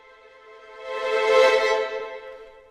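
A sampled orchestral string section holds a sustained chord that swells from soft to a loud peak and then fades back, a single smooth crescendo and decrescendo with no voices.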